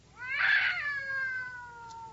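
On a 1949 radio comedy, a sound-effect cat caterwauls at night: one loud, close yowl that swells, then trails off in a long wavering tone in a quiet room.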